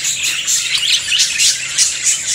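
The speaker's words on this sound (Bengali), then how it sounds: "আরও এখানে পেয়ে যাবেন অনেক সুন্দর সুন্দর অ্যাডাল রানিং বাগরিকা পাখিগুলো" Budgerigars in a bird shop chirp in a dense, lively chorus of high tweets and squawks, loud and close, overlapping without pause and with no voices.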